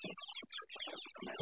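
Wet chickens on a tarpaulin floor at a poultry farm cluck in quick, close bursts, several birds overlapping in a busy, chattering run.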